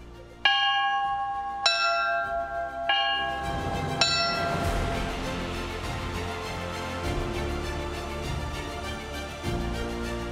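Church bell in Suzdal struck several times, each clear ringing tone starting sharply and fading, then layered into a dense sustained peal of overlapping bell tones, loud and close.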